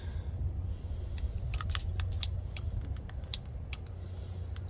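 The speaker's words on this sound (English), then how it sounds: "Oh, I heard it click that time." Lube Shuttle grease gun coupler being pushed onto a grease fitting, a few small sharp clicks and mechanical snaps over a steady low background hum, close up and without talk.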